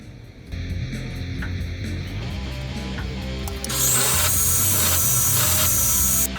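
A carbide quarter-inch ball end mill on a milling machine cuts into a steel knife blade, a grinding, rasping cut that grows louder and harsher partway through, close and continuous with no talking.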